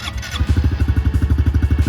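A 2023 Honda CRF110 dirt bike engine with fuel injection catches and settles into a steady, loud idle, its rapid even pulses thumping close by with no talk over it.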